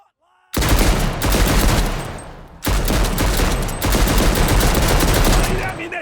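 Sustained bursts of heavy automatic fire from a Hotchkiss strip-fed machine gun in a WWI video game, loud and dense, with a brief break after about two seconds and rapid overlapping shots throughout.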